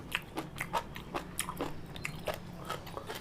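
Crisp crunching bites into a spicy Thai pounded jellyfish salad with fresh shrimp and fermented fish sauce, a close, steady run of sharp crackly chews repeating about every third of a second, with no talk.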